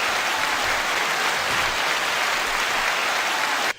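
Steady, dense audience applause that holds at an even level for several seconds, then cuts off abruptly near the end.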